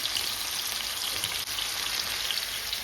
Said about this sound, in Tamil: இப்போ நாங்கள் பக்கத்துலேயே நல்ல பிரட்டி பொறிச்சு எடுப்போம்